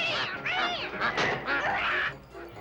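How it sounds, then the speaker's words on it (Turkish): A cartoon duck quacks in a rapid series of loud, nasal, squawking calls, one after another over about two seconds, then falls quiet. "Oh hayır, ördek Azman, ördek."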